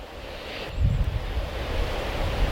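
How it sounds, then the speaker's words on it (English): A river stream flows steadily in a wooded canyon as a continuous broadband rush that grows slightly louder after the first second, with some wind mixed in. "There's the river."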